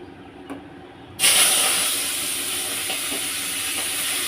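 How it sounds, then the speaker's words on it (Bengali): Prawns drop into hot oil for a yam and prawn curry, setting off a sudden loud, steady hiss of frying that holds evenly to the end after a quiet start. "আমি এবার মাছ কটা দিয়ে দেবো।"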